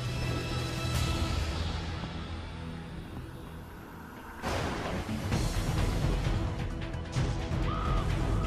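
A crow caws loudly and harshly in a movie trailer for The Crow (1994), standing out over a dense, rumbling music and effects bed.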